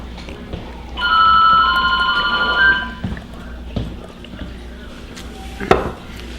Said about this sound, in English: And phone goes off. We'll wait for that.